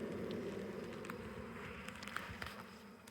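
Honey bees in an open hive make a soft, steady buzzing drone close by, quiet and continuous, with a few faint clicks and rustles.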